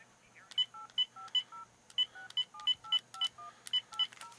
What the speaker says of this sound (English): starting with the area code, please enter the 10-digit home telephone number associated with your purchase